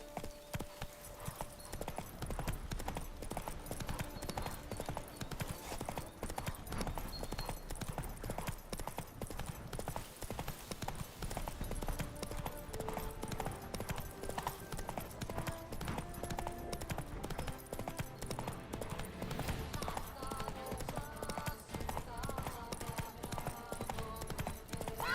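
Roach the horse galloping in the Witcher 3 video game, hooves clip-clopping in a fast, steady rhythm under a constant game-music and ambient bed, fairly quiet.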